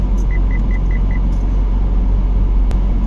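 A car drives along a road on an errand to fetch a gas cylinder, with a steady, continuous engine and road rumble heard from inside and no talking.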